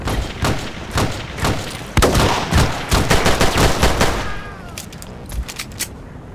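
Rapid bursts of gunfire in the online shooter Battlefield Play4Free, loud and close, with dense volleys of overlapping shots in the middle and scattered single cracks toward the end.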